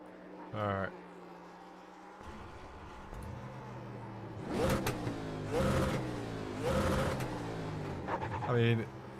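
A race car engine in the iRacing video game revs in short bursts, several rising whines climbing and dropping in pitch, heard over a quieter idle drone and occasional voices.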